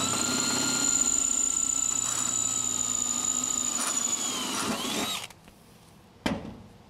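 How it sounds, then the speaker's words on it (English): A power drill whines steadily at high speed, close up, drilling through a double-stud anchor plate, then stops abruptly, followed by a short clunk. "Drill down through that."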